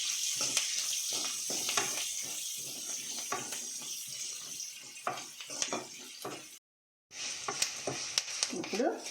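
Onions frying and sizzling in a pan for a tamarind-leaf chutney with curry leaves and turmeric, a steady close hiss with scattered crackles and the scrape of a spoon, briefly cutting out before resuming.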